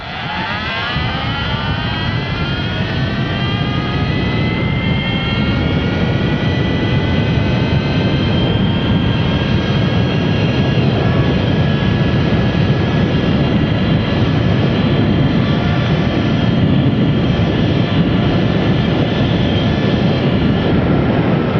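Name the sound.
Ultra Bee electric motorbike accelerating to top speed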